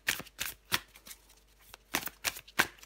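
Tarot cards are shuffled and drawn in a French-language reading, giving a string of crisp papery riffles and flicks in irregular bursts, close and clear, with pauses between them and no talk over the card sounds.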